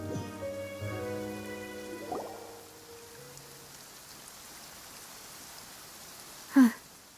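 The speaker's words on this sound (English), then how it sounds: "It's been raining non-stop for a few days now." Steady rain falls in the video game Genshin Impact, a soft continuous hiss that runs throughout, with faint tonal music early on and a brief louder burst near the end.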